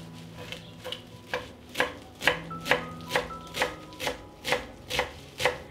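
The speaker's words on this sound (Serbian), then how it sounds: "Dok se patliđan kuva, iseckat ću jednu vezu svežeg peršuna." A knife chops a bunch of fresh parsley on a board in a steady, even rhythm of about a dozen crisp, close strikes, with no talk.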